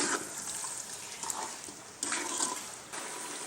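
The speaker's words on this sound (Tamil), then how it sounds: "நம்ம தண்ணி வச்சோம் இல்லைங்களா, நல்லா கொதிக்குது" Water in a pot comes to a rolling boil while chicken cooks for Hyderabadi chicken dum biryani, a soft steady bubbling hiss with a few brief louder splashes, quiet and close, with no talking.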